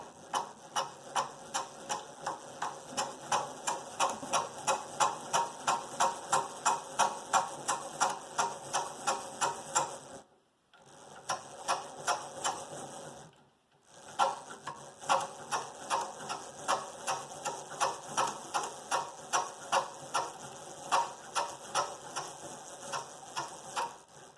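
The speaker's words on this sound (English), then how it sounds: "Take your fly line, just drop it into any one of these clips, give yourself a little bit of slack, and get started, and wind away." A Flow fly line winder transfers fly line onto a spool, giving a steady, rapid ratcheting click in a regular rhythm, close and even, with two brief pauses before winding resumes.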